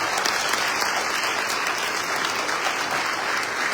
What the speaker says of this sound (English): That hand clap is not enough.